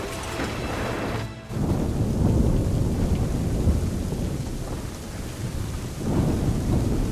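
A heavy thunderstorm with rain in Assassin's Creed III Remastered brings a continuous loud roar of downpour and deep rolling thunder that swells and fades, with a brief dip before the rumbling builds again.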